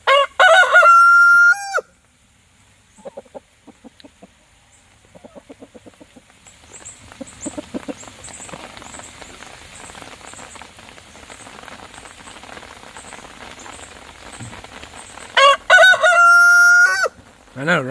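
A Wyandotte rooster crows loudly near the start and again near the end, long, ringing calls with steady rain pattering outdoors in between.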